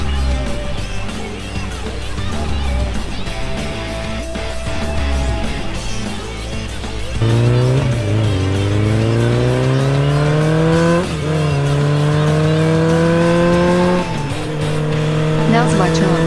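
A cartoon truck engine revs hard and climbs through rising, whining gear pitches before dropping and surging again. It sounds loud and close throughout.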